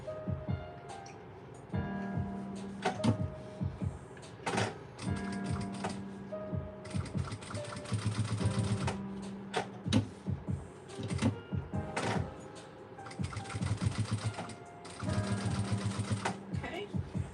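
Sewing machine top stitching an up-cycled Gucci bag, running in repeated bursts of rapid stitching with short pauses between, close and clear, while a person talks in between runs.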